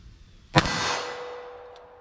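A single .380 ACP pistol shot rings a steel target, giving one sharp metallic clang that decays into a sustained ringing tone lasting over a second, heard alone at moderate distance.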